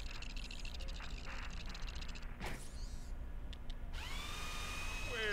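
A mining drill in the 2002 Ratchet & Clank video game whines in short mechanical bursts, followed by a sharp metallic hit and then a bright ringing electronic tone under constant low game ambience.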